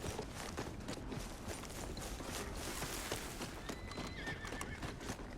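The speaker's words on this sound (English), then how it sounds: "Here's your horseback, friend." Horse in Red Dead Redemption 2 giving a whinny over a busy bed of hoof clip-clops and movement, fairly quiet and continuous, with no voices.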